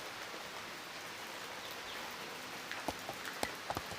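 Light drizzling rain falls on a misty evening, a steady soft hiss with a few sharper drips and taps toward the end, no voices.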